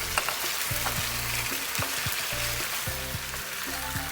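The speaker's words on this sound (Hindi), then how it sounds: "जैसे ही चिकन थोड़ी सी फ्राई हो जाए, अब आप इसमें डालें ये टमाटर" Chicken fries loudly in a karahi over a high flame, a steady dense sizzle running throughout with a few sharper crackles and scraping stir strokes as chopped tomatoes go in.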